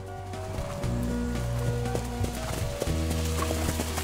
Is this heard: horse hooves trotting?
yes